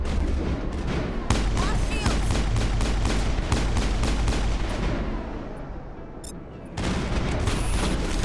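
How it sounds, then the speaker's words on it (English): Rapid, dense gunfire from Mass Effect rattles loudly and continuously, fading briefly near the end before a renewed burst of shooting, with faint voices mixed in. "Why are we shooting?"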